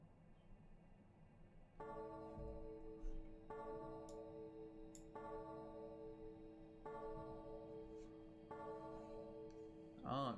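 A clock chimes in the video game Without Escape, several evenly spaced resonant bell tones ringing over a low ambient hum, moderately loud and alone.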